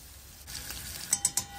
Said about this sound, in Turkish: Güzelce kızartalım salçamızı.